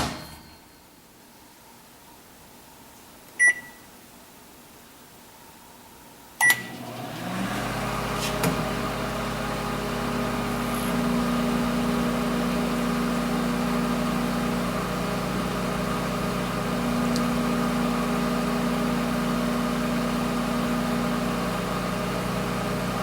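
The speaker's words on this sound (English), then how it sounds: "you put the wood spoon in the microwave for 15 seconds" A microwave oven heating a wooden spoon starts with a click and then runs with a steady, close electric hum and whir for a sustained stretch. Quiet room tone comes first, with a couple of sharp clicks.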